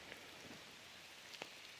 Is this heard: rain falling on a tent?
yes